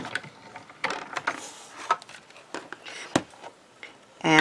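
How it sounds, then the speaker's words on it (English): A foil and die-cutting machine is cranked with cardstock and plates passing through and back, giving irregular close clicks, ratcheting ticks and mechanical clunks with brief quiet gaps, ending in a louder grinding burst. "I'm just going to put it through the machine and then just back again."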